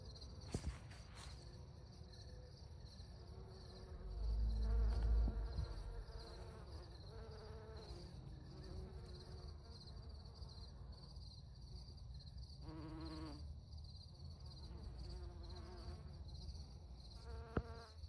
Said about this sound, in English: Yeah, bees being around is a really good thing.